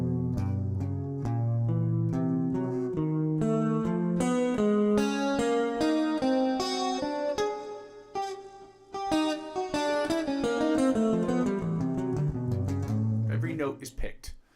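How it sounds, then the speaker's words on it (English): A fast alternate-picking guitar exercise, every note picked separately, rising and falling in a steady stream, played alone. "Every note is picked, which is why I called it an alternate picking exercise"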